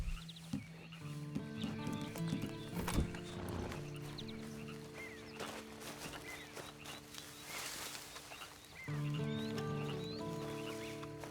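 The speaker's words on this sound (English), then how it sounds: "And you better get on this horse." Horse hooves clip-clopping in the Red Dead Online video game, a steady series of moderately close hoofbeats mixed with tonal game music and ambience, continuing throughout with a brief lull before the rhythm resumes.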